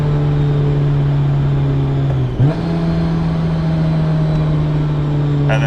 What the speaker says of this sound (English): If you just like in 5th gear and you just roll on the throttle, the thing just